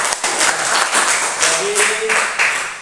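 A classroom group bursts into brisk, fairly loud applause that holds steady before thinning out, while a teacher speaks over the clapping.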